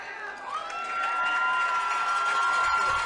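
A high school football crowd at a half-capacity Connally Cadets home game cheers and shouts steadily from the stands, a broad continuous roar that swells slightly louder partway through, with some high whistling or yelling above it.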